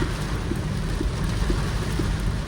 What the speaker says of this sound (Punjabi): ਮੀਂਹ ਤਾਂ ਬੜਾ ਤੇਜ਼ ਆ ਇੱਥੇ